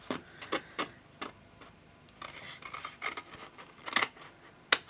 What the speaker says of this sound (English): So then you want to bring in your scissors and you just want to cut just this section